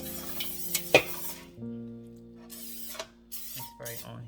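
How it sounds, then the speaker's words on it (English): Avocado oil cooking spray hisses onto a stuffed crown roast in a couple of short bursts, mixed with clinks of a can and pan handling nearby in a kitchen. "avocado spray."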